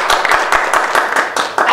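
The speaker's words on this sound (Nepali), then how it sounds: "हामी सबभन्दा पहिला यहाँहरूलाई सगलमा ताली बजाएर हार्दिक स्वागत।" An audience in Phaparbari, Makwanpur, claps in a steady, quick rhythm to welcome guests at a public ceremony; the clapping is close and fairly loud, with no talking over it.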